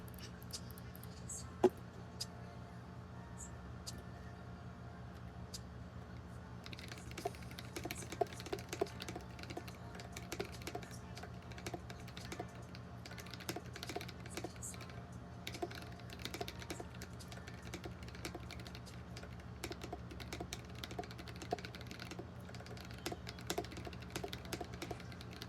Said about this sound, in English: let's go ahead and test the keyboard with ASMR